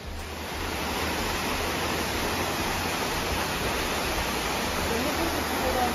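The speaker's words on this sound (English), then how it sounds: "we found the first waterfall and it's amazing" The Ng Tung Chai waterfall, reached on a pathless jungle hike, pours as a constant, dense rushing roar that stays loud and even throughout, with no talk.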